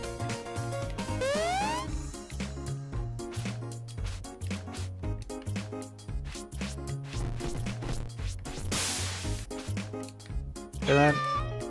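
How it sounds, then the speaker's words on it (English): Repeated cartoonish cat meows in the game Catlateral Damage (Litterbox Mode) ring out over bouncy game music, with a rising whistle-like sweep and a burst of noise partway through. "And then we meow."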